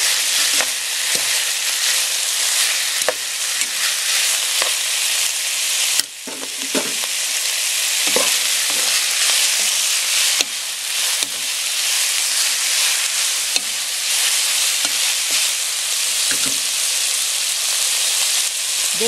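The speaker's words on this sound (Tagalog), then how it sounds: "Haluin natin." Chicken macaroni soup seasoned with ground black pepper and salt being stirred in a pot, a steady loud sizzle and hiss with repeated scraping clacks of the utensil throughout.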